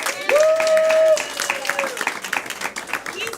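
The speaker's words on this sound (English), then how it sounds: "while we're clapping" An audience at a live show applauds, with steady dense clapping that runs under a loud amplified voice and a sustained whistle-like tone, then thins to scattered claps.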